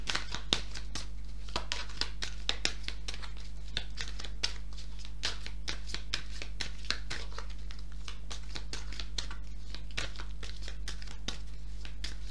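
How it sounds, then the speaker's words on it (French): Oracle cards being shuffled by hand for a reading, a steady run of soft rapid crisp riffles and slaps close up, fairly quiet, with no talking. "Je vais commencer par tirer 2 cartes de l'oracle des miroirs"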